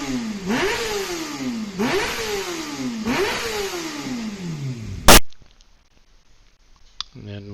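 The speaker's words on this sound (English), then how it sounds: "we got some real revs out of her." A Kawasaki ZX-6R race motorcycle engine revs hard three times in a row, each blip rising and falling in pitch, loud and close, then cuts off abruptly into near silence with a faint click.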